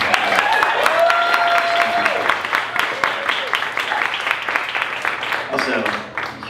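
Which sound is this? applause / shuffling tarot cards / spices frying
applause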